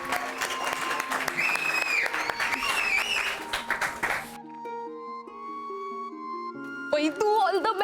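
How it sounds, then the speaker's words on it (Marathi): An audience at a televised contest claps for the next contestant, dense applause for about four seconds over music, then it stops and only music continues before a brief burst of sound at the end. "जोरदार टाळ्या"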